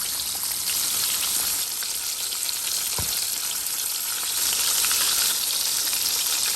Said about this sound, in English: I use veggie oil and it's frying mighty nice